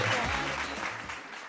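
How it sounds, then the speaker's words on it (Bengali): A game show studio audience bursts into loud, dense applause, a brief sustained clatter of many hands that tapers slightly at the end. "ভেরি গুড, জোরে হাততালি একটা।"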